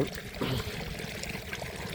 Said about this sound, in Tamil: தண்ணி வர ஆரம்பிச்சிருச்சு